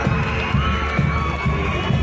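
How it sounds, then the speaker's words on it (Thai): Supporters of the yellow team cheer at a school sports parade, a steady wash of crowd noise and children shouting with rhythmic pulses, sustained and moderately loud throughout. "ขอเสียงกองเชียร์สีเหลืองหน่อยครับ"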